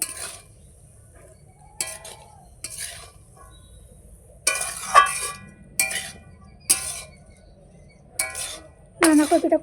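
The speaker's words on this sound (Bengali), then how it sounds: "দিয়ে আস্তে আস্তে নাড়তে থাকবো ভালো করে বাঁধাকপির সাথে মশলাটা কষিয়ে" A spoon scrapes and clinks in a pot of cabbage and spices on a clay stove, in separate bursts of stirring with faint sizzling between them, close and fairly quiet.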